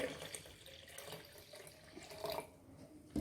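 Water pours into a glass jug for mint juice, a close, soft, continuous splashing trickle that swells near the end, with no talk.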